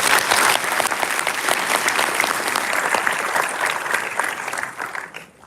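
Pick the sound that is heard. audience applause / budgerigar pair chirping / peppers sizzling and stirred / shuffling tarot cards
audience applause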